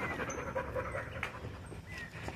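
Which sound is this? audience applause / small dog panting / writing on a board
small dog panting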